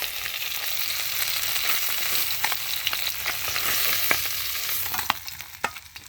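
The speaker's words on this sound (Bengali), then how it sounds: "বাকি মাছগুলো ভাজি করে নিই" Fish frying in hot oil gives a steady, close sizzle with scattered sharp pops and crackles that grow more frequent toward the end; no one speaks.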